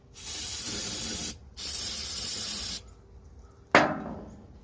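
Starting fluid sprayed from an aerosol can into the engine of a Cub Cadet Super LT 1554 lawn tractor, two long close hissing bursts followed by a brief sharp spritz.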